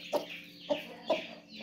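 A hen weighing about a kilogram clucks four times in short, evenly spaced calls, close by, over a faint steady background hum.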